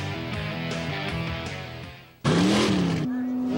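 Truck engines rev loudly in a burnout contest at a four-wheel jamboree, the engine note climbing in bursts, then cutting out before a sudden harsh roar returns, under talk.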